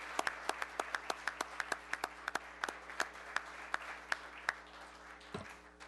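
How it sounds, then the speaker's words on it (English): A city commission meeting audience applauds with a round of clapping: sharp, distinct hand claps in a loose, steady rhythm that thin out near the end, indoors and moderately close. "if you all would join me in just a round of applause for Honor Flight and the great work that they do."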